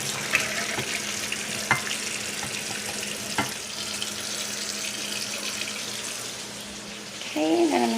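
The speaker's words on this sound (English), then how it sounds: "my noodles are done. So I am going to drain them." Water pours steadily from a pot as cooked spaghetti noodles are drained into a sink, a soft continuous rush with a few clinks, ending with a brief voice.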